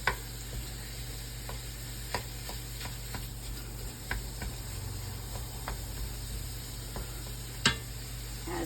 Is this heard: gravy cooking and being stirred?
yes